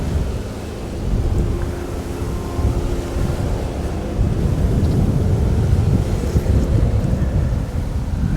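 Steady wind gusting across a lakeside fishing peg at Barston Lakes during a July match, a continuous loud low rumble buffeting the microphone with no talk over it.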